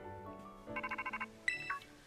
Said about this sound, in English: And now I get a phone call.